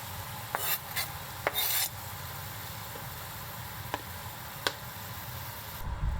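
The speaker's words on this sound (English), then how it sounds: "add the sauce mixture and bring it to a boil. Add the vegetable and mix well." Vegetables stirred into a boiling sauce for salmon nanbanzuke in a pan, with scraping and rasping utensil strokes in short bursts over a low bubbling bed, close up.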